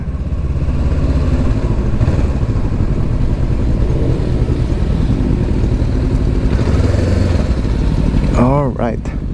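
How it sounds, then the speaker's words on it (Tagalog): A crowd of motorcycles idles together in a parking area near the Loboc River in Bohol, a steady, loud mechanical rumble with a brief whine near the end. "Ang daming mga motor."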